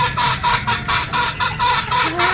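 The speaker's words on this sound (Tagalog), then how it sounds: "Ito naman po yung ating mga pulit na mga Boston Roundhead." Boston Roundhead gamefowl pullets cluck repeatedly at a game farm in Batangas, a close, loud series of rhythmic clucks with no talking.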